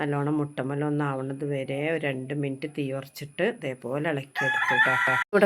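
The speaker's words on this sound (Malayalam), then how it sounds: "കോഴിയുണ്ട് അതാണ് അധികം വീഡിയോയിലും കോഴി കൂണതായിട്ട് തോന്നുന്നത്" A rooster crows nearby during an egg curry cooking session in a home kitchen, its call running under continuous close talking in Malayalam.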